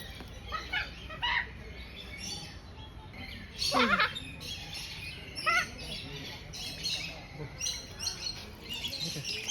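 A blue parrot screeches at a zoo aviary, with loud harsh calls around the middle standing out among steady chirping from other birds and faint voices in the background.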